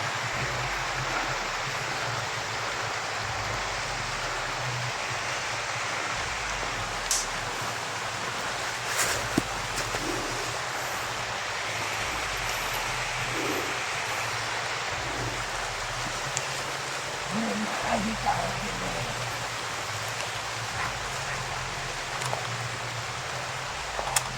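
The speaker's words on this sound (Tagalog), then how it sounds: "Umuulan na mga tol." Rain falls as a steady, continuous broadband hiss with a low rumble underneath and faint scattered taps, unbroken by voices.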